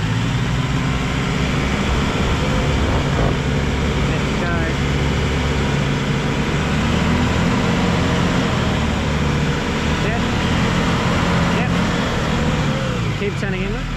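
A Nissan NP300 ute crawls slowly off-road in the Glasshouse Mountains, its engine droning steadily and close with faint clicks and whirs as traction control engages, continuous throughout.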